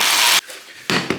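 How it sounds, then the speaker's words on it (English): A power drill bores a hole into the body of a Mercedes Sprinter van in short bursts, a harsh whining grind that cuts out and then starts again close by. "Started to drill a hole here."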